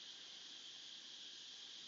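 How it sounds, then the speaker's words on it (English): Cicadas buzzing in one steady, dense, loud drone that holds at an even level throughout, with no other sounds. "The cicadas are screaming for you"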